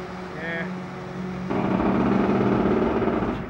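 A 1998 White-Volvo Leach rear-loader garbage truck's engine brake kicks in midway, the steady engine note jumping to a louder, rougher broadband roar that holds for a couple of seconds, with a brief voice early on.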